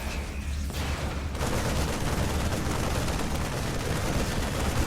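StarCraft II units trade fire in a dense, continuous volley of rapid gunshots and muffled booms, loud and unbroken throughout.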